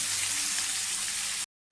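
Boiled jackfruit seeds hit hot oil tempered with nigella seeds and dried red chillies, giving a steady, close broadband sizzle that holds evenly for about a second and a half before cutting off abruptly.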